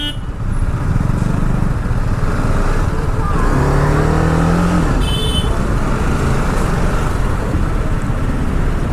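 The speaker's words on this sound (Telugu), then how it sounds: "ఇక్కడ ఫుల్ ట్రాఫిక్ జాము దేవుడ్డా" Congested street traffic in Goa near Calangute Beach, with a steady dense wash of car and motorbike engines, a passing engine rising in pitch and brief horn-like tones over constant road noise.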